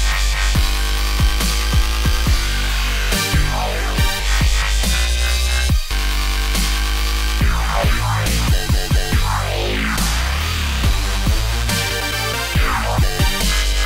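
A heavy dubstep VIP track blasts loud and dense, crammed with progressively crazier synth sounds, warbling wobbles, pitch sweeps and hard-hitting drums over constant deep sub-bass.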